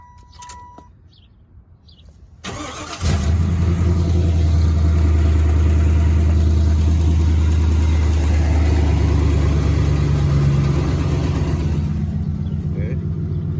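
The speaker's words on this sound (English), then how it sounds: "I'm gonna give y'all a cold start." A 1994 Chevrolet Impala engine cold-starts after a quiet moment, catching abruptly with a loud crank and then settling into a deep, steady, close idle that runs to the end.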